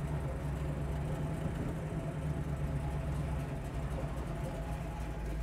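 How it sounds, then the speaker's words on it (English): A 1968 Chevrolet Camaro SS idles steadily, a low continuous engine rumble with an even, unbroken drone and no revving. "Notice at idle too, how we're not stalling out."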